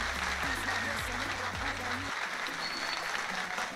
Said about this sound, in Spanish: ¡Otro aplauso, Mickey!